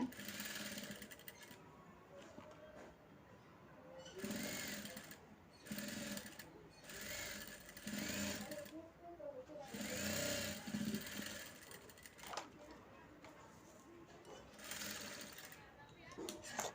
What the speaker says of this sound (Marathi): फिकट कलरची घेतली आहे लेस ती मी जोडत आहे